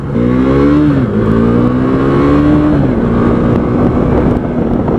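KTM RC390 motorcycle accelerating on a road, its single-cylinder engine loud and close, revving up through gears with pitch climbing and dropping at shifts, mixed with constant wind rush.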